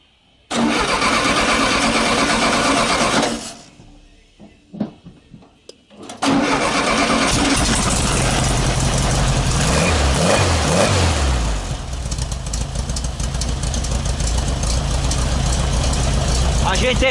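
A Volkswagen Beetle (Fusca) engine cranks and fires up loudly, cuts out briefly, then restarts and settles into a rough, steady idle up close, with a person speaking over it.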